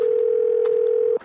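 A continuous telephone tone after dialing a sister's number sounds loud and steady for over a second before cutting off, with faint background noise.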